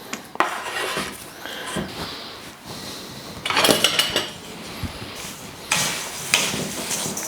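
Dried fruit such as apricots, dates and goji berries being portioned into muesli bowls, with close clinks and scrapes of a spoon against dishes in irregular bursts and quiet shuffling between them.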